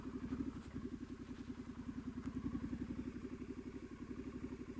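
A 2018 Triumph Street Scrambler motorcycle engine thumps in a fast, steady low pulse while being ridden slowly off-road, heard close and moderately quiet with no talking.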